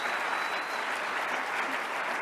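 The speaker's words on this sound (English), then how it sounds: "Please give her applause." An audience at a CPAC women's sports panel claps steadily for a short burst, a dense even applause with no pauses.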